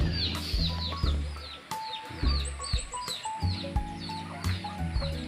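Several chickens cluck and chirp close by in quick, irregular bursts, with thumping and rustling noises underneath.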